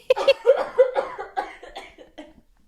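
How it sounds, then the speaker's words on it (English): A run of harsh, wet coughs in quick succession, loud and close, tapering off into weaker hacks and breathy gasps. "I'm gonna just go into a coughing fit so you can cut this vocal out"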